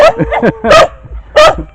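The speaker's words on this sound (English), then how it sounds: "of course there are the dogs" Several dogs greeting a returning visitor at a home, giving close, loud excited barks and yips in quick bursts with short whimpers between.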